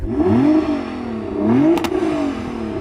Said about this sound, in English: Hey Jürgen, go on, rev up your car.